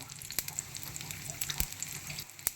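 Oil sizzles and crackles softly as chana dal, mustard seeds, cumin, dried red chillies and asafoetida fry in a pan, a steady faint hiss broken by a few sharp pops.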